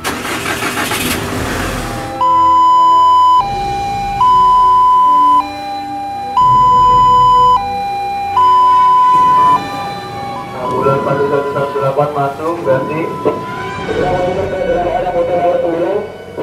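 A motorcycle ambulance sounds its siren during a hospital emergency simulation, a loud two-tone wail alternating steadily for several cycles before giving way to engine noise and people talking.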